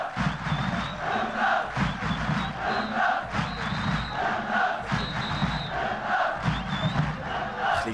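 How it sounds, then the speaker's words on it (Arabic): Chabab Rif Al Hoceima football supporters who travelled from Al Hoceima chant together in a stadium during a Moroccan league match against Kenitra, a rhythmic, sustained mass of voices at moderate distance, without commentary over it. "هنا الجماهير ديال الفريق فريق شباب ريف الحسيمي اللي تنقلت من مدينة الحسيمة"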